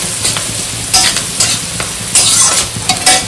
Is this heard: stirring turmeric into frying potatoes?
yes